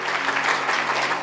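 A church congregation claps hands together during a sermon, a brief, dense burst of steady applause.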